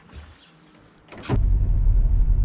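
A car pulls in to park, a brief rustling burst giving way to a close, low, steady engine rumble.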